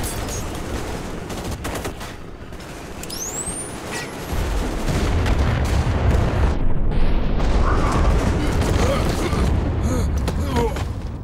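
A heavy explosion in Metro Exodus roars in as a deep, loud rumble after gunfire and shouting, sustaining for several seconds under voices.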